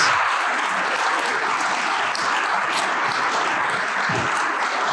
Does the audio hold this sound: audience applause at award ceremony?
yes